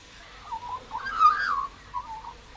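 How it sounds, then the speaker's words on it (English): A warbling, fluting magpie call rises and falls through several melodic notes, moderately clear against a quiet background. "That's a magpie."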